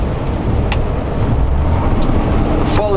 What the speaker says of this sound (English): Every truck struggles up this hill with this kind of weight.